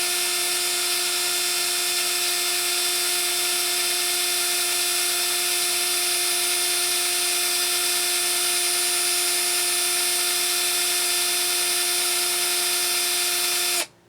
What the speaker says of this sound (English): Reverse the drill so you can wind the other side.